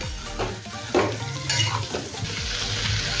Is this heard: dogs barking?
no